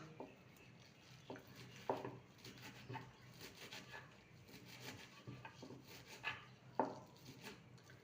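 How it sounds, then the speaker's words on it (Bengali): A knife cuts fenugreek (methi) leaves on a board, making quiet, irregular chopping and scraping strokes up close. "এইভাবে সমস্ত শাকটাকে কেটে নেব"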